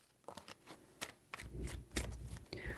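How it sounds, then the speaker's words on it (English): Tarot cards shuffled by hand, a few seconds of soft, close flicks and papery rustles in an uneven rhythm. "Three shuffles."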